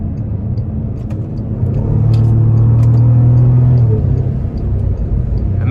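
A Bentley Flying Spur with a twin-turbo W12 engine accelerating from inside the cabin, a loud, steady low rumble that swells and holds as speed builds, with no talking.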